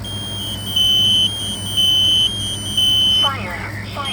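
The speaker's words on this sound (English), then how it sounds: "next alarm we're going to test is the Kidde KN-COSM-IBA." A Kidde KN-COSM-IBA smoke and carbon monoxide alarm gives three loud, shrill beeps at an even pace, close by, and a voice starts at the end.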